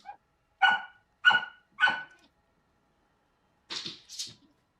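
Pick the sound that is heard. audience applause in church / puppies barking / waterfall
puppies barking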